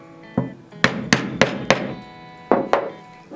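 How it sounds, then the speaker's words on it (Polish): A mallet strikes a diamond leather stitching punch to make holes for a seam, giving seven sharp, close knocks in an uneven rhythm, loud and clear without any speech. "możemy pobijakiem zacząć wykonywać otwory pod szew."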